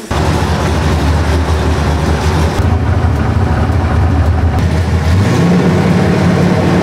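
Drift car engine at a Japfest track day at Mondello Park, suffering a fuel pressure drop, revs up loudly and steadily close by, a low throbbing drone that rises in pitch toward the end, with no talk over it.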